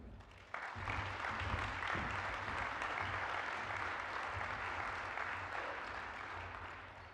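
A conference audience at an opening session breaks into applause all at once, then keeps up a dense, even clapping that fades slowly over about seven seconds, with no voices.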